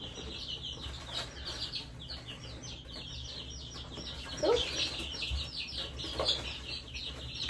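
Young Polish and Sapphire hens cluck and cheep close by, a busy run of short, repeated chirps with a few louder calls standing out over a low background hum.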